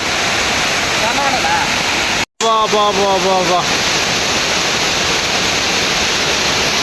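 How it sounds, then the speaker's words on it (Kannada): A loud, steady roar of Kattadahalli waterfall fills the scene, with a brief dropout and a short burst of tonal chirping partway through. "ಏನು ಸ್ಟೈಲಿಶ್ ನೀರು ಬೀಳ್ತಿದೆ"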